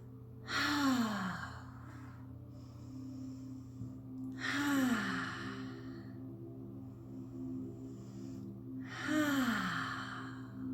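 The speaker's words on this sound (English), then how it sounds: "let's take 3 deep breaths in" Three slow, deep breaths, each a long audible inhale flowing into a sighing exhale, evenly spaced about four seconds apart, close and soft over a low steady background hum.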